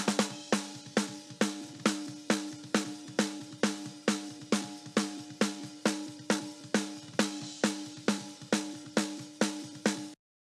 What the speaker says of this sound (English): And then together, those snares sound a bit like this.